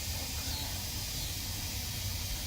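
Steam hisses from a pressure cooker during quick release, a loud, steady, continuous rush of broadband hiss that holds without a break and with no voices over it.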